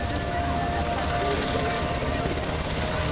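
A UH-60 Black Hawk helicopter hovers at an airshow demonstration while troops rappel down a rope, its engine and rotor making a loud, continuous, steady roar that fills the whole moment.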